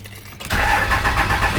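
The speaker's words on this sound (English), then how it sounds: "so I'm about to move my truck" A pickup truck engine cranks briefly and catches, then settles into a loud, close idle with a steady rumble.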